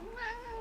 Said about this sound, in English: I'm petting my cat. She's purring. She's a purring kitty.